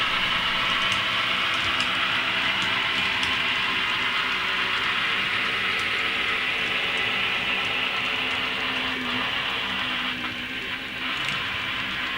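A Tropicana orange juice freight train running from Jacksonville to Jersey City passes on the Sayrehurst Secondary, a dense, steady roar of wheels and cars with faint clicks throughout, heard without talk.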